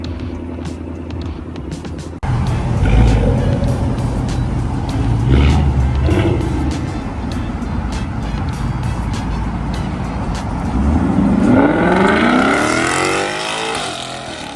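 A classic Ford Mustang with an active exhaust rumbles loudly at close range, its deep engine note swelling with repeated revs and then climbing in a rising acceleration sweep toward the end.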